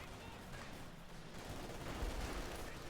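An MG42 machine gun in the Company of Heroes 2 strategy game rattles off faint, dense bursts of automatic fire amid distant battle noise, steady and unbroken throughout.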